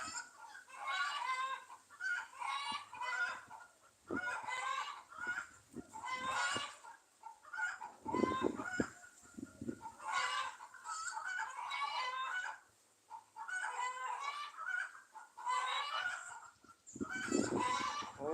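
Chickens cluck and cackle repeatedly at a moderate distance, calls overlapping in uneven bursts over a quiet rural background, with no talking.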